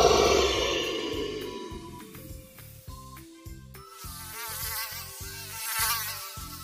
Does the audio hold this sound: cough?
no